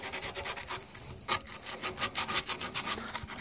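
A GY6 scooter's metal part is rubbed down by hand to strip off loose metal, giving a steady close scraping and rasping in quick repeated strokes, fairly quiet and with no voices.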